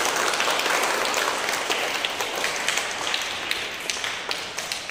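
A classroom of pupils claps steadily for a fellow pupil, a dense patter of many small hands close by that carries on without a break.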